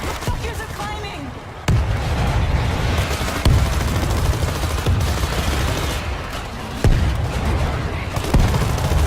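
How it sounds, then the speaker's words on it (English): A grenade is thrown and explodes during a zombie battle in World War Z. Several heavy, booming blasts and bursts of gunfire cut through continuous combat noise, with voices talking over it. "Throwing a grenade"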